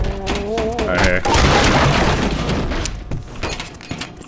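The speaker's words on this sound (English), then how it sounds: "those grenades never go where you want them to" Grenade blasts in the game Black Mesa: a loud, crunching explosion with debris and shattering tails after a short stretch of synth-like tones, followed by thuds and fading rumble, with someone talking over it.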